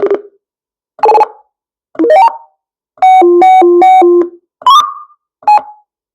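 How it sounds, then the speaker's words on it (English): A Retevis MB2 CB radio emits a series of short electronic roger beeps, close and loud with silent gaps between: several brief chirps, some rising in pitch, and one longer stepped two-tone pattern in the middle. "when you key the mic and unkey it on the unkey, it makes a little beep so the stations know that you're free to transmit"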